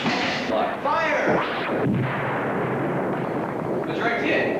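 Science-fiction pulsar cannons fire during a space battle in a 1985 film, with loud sweeping electronic blasts and rumbling impacts over a dense, continuous roar.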